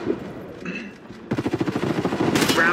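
Gunfire in the Warface video game: a rapid burst of automatic shots fired close by, following a short stretch of game noise and faint voices.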